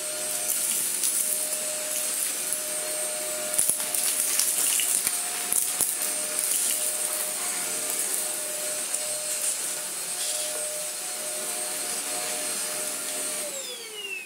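An iLife Easine G50 cordless vacuum cleaner runs on a hard floor, a steady close high-pitched motor whine with brief rattles and clicks of debris being picked up partway through.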